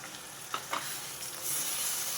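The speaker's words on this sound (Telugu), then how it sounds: "ఇప్పుడు నేను మసాలా ఉడకడం కోసం కొన్ని వాటర్ పోసుకుంటున్నా" Water from rinsing a mixer jar poured into a pan of cooking mushroom masala curry hisses into a rising, steady sizzle, with a couple of brief stirring scrapes, close and moderately quiet.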